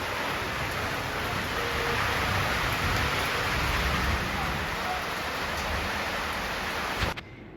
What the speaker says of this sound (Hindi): अभी होने लगी है बारिश